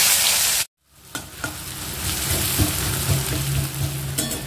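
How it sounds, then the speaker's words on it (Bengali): Finely chopped onion hits hot oil seasoned with whole cumin and chilli. After a brief silence the sizzle swells up and settles into a loud, steady frying hiss with faint stirring ticks. "এবার আমি দিয়ে দেবো এখানে মিহি করে কুচিয়ে রাখা পেঁয়াজ।"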